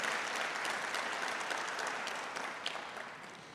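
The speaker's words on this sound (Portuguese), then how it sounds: "você pode aplaudir o nome de Jesus" A church congregation applauds in praise of Jesus, a dense, even wash of clapping that holds steady and then fades slightly toward the end, heard from a distance.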